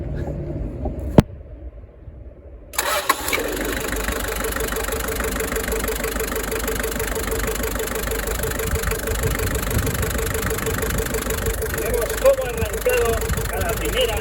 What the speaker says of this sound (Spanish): vamos a arrancar el motor a ver cómo ruge este motor de 4 cilindros y 2446 centímetros cúbicos de Toyota 2LT LJ70 del año 88